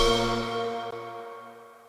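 Synth sample drenched in fully wet reverb with no dry signal, a sustained, washed-out tonal wash that slowly decays and fades over a couple of seconds.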